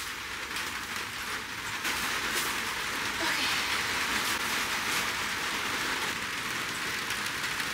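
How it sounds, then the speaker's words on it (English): Rain falls steadily outside in a dense, even hiss of drops on surfaces, continuous and moderately loud for the whole stretch, with no voices. "It's raining."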